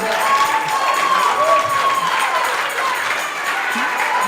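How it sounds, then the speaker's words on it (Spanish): Audience applause and cheering fill a hall during a Spanish-language spiritual talk, a dense, steady wash of clapping with excited voices mixed through it, fairly loud and continuous. "Estoy tan poco acostumbrada a que me aplaudan"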